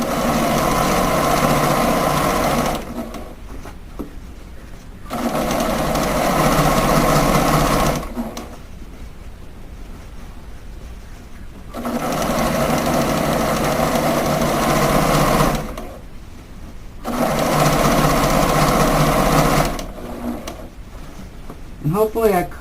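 A sewing machine stitches a seam on a beret in four loud, close bursts of steady whirring, each lasting a few seconds. Quieter pauses with fabric handling separate the bursts.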